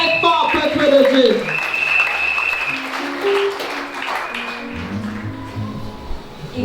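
Church congregation at a healing service applauding loudly, a sustained wash of clapping and cheering under a preacher's voice and lively music.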